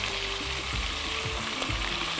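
Meat pieces frying with a spice mix for a shepherd's pie, a dense continuous sizzle close up with no voices.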